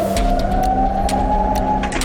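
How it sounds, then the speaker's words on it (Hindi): Wailing siren in a war zone, a steady tone rising slightly in pitch, loud and continuous over a rumbling background with brief bursts of noise. "गूंजते सायरन"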